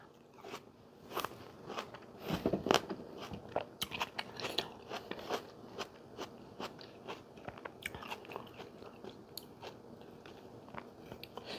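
Close, crisp bites and chewing of a fresh, crunchy, juicy eating tomato, with a steady run of sharp crunches and wet crackles heard alone in a quiet room.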